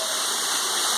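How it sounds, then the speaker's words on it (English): Jungle waterfall pouring over rocks, a broad steady rushing roar of falling water, close and constant with no break, no voices heard. "Waterfall."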